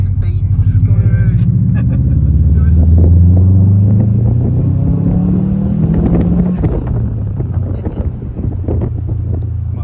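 Subaru Impreza RB5 accelerating hard on a road trip, a loud, steady engine roar from inside the car that climbs in pitch as it pulls, mixed with heavy wind rumble, with people talking over it.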